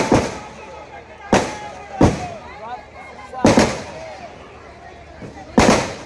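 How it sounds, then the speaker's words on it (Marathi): Loud sharp firecracker bangs go off at a political rally, five spaced blasts over six seconds with ringing tails, as someone talks over a public address system between the explosions. "लवकर पाणी टाका, त्याच्यावरती फटाके बंद करा."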